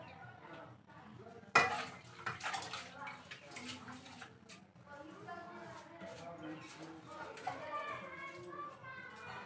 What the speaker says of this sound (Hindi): इसके अंदर मैं चावल धो के डाल रही हूँ।